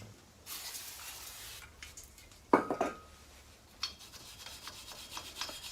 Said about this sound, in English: We want to clean off with brake clean and a wire brush where the